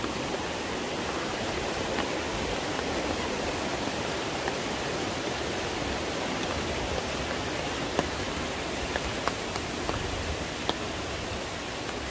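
Seryeom waterfall near Guryongsa temple in a mountain valley, a steady dense roar of falling water close by, with faint brief clicks over it.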